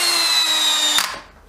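A Bosch GSB 18V cordless drill driver whirs steadily in screwdriving mode, loud and close, for about a second before it stops abruptly and winds down into near silence.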